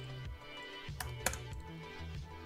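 Quiet, uneven clicks of a computer keyboard as a command is typed into a terminal, with a few sharper keystrokes among them.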